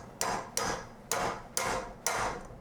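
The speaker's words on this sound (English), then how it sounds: "we need to take a punch and we need to punch that into place" Five sharp metallic hammer strikes on a punch, driving a pin into the planetary of a commercial 8-quart KitchenAid stand mixer, spaced about half a second apart, close and alone.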